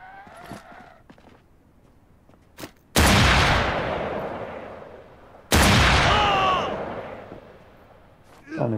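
Two loud revolver shots ring out in NAKWON Last Paradise, a few seconds apart, each with a sharp crack and a long echoing tail. Quieter footsteps and shuffling come before them, and a third blast starts at the very end.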